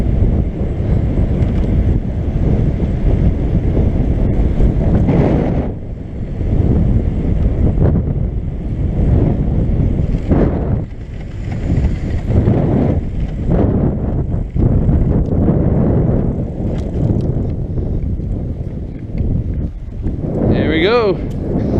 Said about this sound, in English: We're against the wind going uphill.